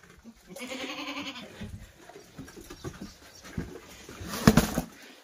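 Goats on a farm bleating in short bursts, fairly close, with soft shuffling and pattering movement between calls and a louder cry near the end.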